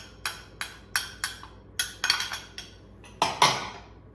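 Spinach and goat cheese tart filling stirred with binder in a bowl, a utensil knocking and clinking against the sides in about a dozen quick, close taps, with no talk.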